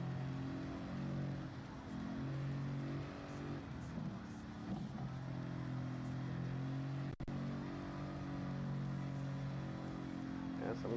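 A race car engine in a driving video game hums and revs steadily at Willow Springs, a faint continuous drone with shifting pitch that rises and falls through gear changes and carries on without a break for the whole stretch.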